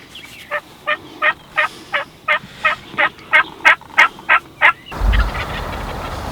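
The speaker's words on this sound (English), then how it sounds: "He's gobbling, but he's not necessarily getting super aggressive with it." A wild turkey gobbles in a field during a North Carolina turkey hunt, a rapid run of about a dozen loud, evenly spaced bursts, then stops abruptly as noise takes over.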